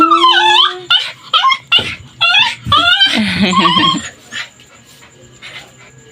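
A leashed Labrador whimpers and whines in a string of high, wavering cries, close by, trailing off into quieter fussing at the end.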